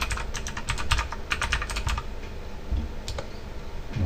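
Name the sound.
typing on a computer keyboard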